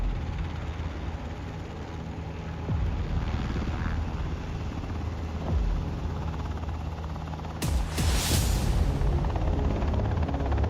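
Black Hawk helicopters during an evacuation training exercise at the White House, a loud continuous rotor roar with deep thumping, steady throughout with a brighter surge near the end, under a faint voice.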